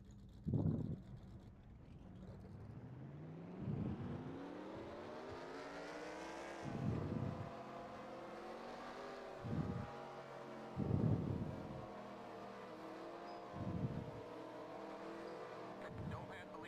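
Stock race car engines in the NASCAR Racing 2003 game at Daytona, a steady engine drone with a rising pitch as the cars accelerate, punctuated by several louder periodic bursts under faint wind-like noise.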